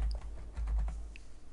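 Computer keyboard typing at a desk, a few soft quick keystrokes close by against a low steady hum, with no voices.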